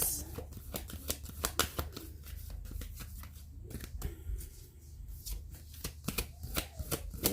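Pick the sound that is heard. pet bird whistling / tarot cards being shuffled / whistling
tarot cards being shuffled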